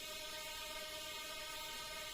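Synth string patch with pitch automation, heavy OTT multiband compression and bitcrushing, playing a sustained, buzzy tone that stays steady and fairly loud for about two seconds with no voices.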